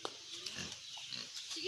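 Pig grunting on a rural farm in the province, short low grunts scattered under ongoing conversation at close range.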